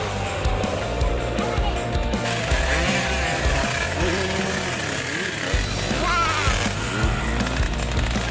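A trail motorcycle engine runs steadily and close by on a rough jungle road near a monkey habitat, its buzzing drone continuous throughout, with people talking over it.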